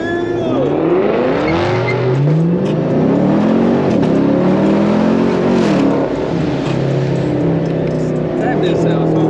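A newly bought car revs hard and skids with squealing tires at a street gathering, loud and close, its engine pitch rising and falling over about nine seconds while people shout and talk nearby.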